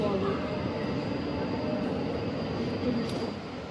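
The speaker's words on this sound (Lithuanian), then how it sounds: "Atvažiuoja mūsiškis lėktuvas." A Scoot airliner arriving at an airport in Singapore produces a steady, even roar that holds throughout, heard indoors at a distance.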